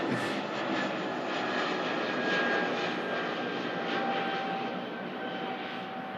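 An airliner takes off from Manchester Airport bound for London Heathrow, a strong continuous engine roar with a high whine, steady and close with no voices over it.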